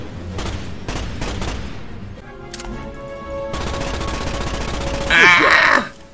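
Rapid weapon fire in the 2005 Starship Troopers game: loud bursts of automatic shots, a brief pause, then a sustained fusillade with a grunting creature cry near the end.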